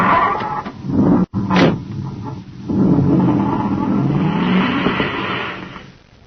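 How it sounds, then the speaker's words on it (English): A commander's surface car roars away as a radio drama sound effect, a loud close growling engine that surges, builds and fades out, with brief voices at the start. "Duncan and Savage roar away in the commander's surface car"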